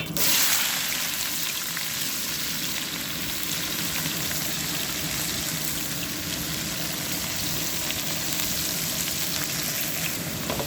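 Sliced onions frying with bay leaf, cloves and cardamom in oil for chicken biryani give a steady, dense sizzle close by that holds evenly for the whole stretch, with no talking.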